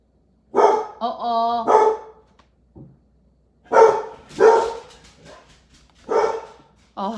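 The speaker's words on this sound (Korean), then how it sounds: "제 개가 너무 짖네요." A dog barks loudly and close by in several sharp bursts with short pauses between them, indoors during a conversation.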